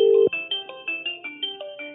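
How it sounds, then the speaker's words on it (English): A mobile phone ringtone plays a melodic sequence of bright electronic tones in a steady repeating rhythm, close and clear, after a brief loud tone at the start, with no talking. "one phone is ringing"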